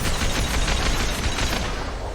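Sustained automatic gunfire in the video game Mass Effect 2, a dense, loud rattle of rapid close shots running the whole time without pause.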